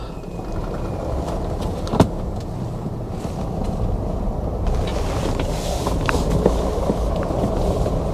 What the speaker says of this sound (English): I'm just going to put it back in crawler gear and let's just see what it does.